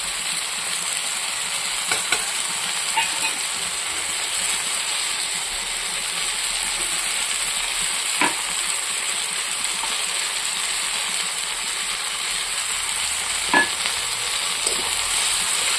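Spice paste with chili powder, turmeric and salt fries in a wok, giving a constant loud sizzling hiss broken by a few faint clinks of stirring, with no voices.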